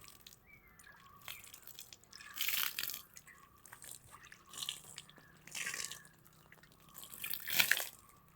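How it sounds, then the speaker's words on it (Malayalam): Water sprinkled by hand onto potted plants outdoors, coming in several soft splashy bursts between quiet gaps, with faint birds chirping in the background. "ഞാൻ ഇവിടെ വെള്ളമൊക്കെ തളിക്കട്ടെ"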